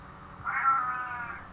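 A pet cat gives one drawn-out meow, close and clear, that swells and then holds steady before trailing off, with no talking around it.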